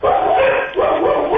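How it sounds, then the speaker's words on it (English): Two dogs bark loudly and close in a quick run of yapping barks, layered over each other across the whole moment. "you can hear my two dogs barking in the back"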